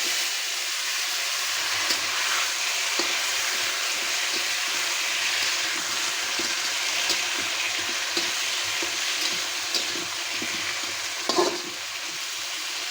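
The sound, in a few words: pineapple pieces frying in oil with sugar and chili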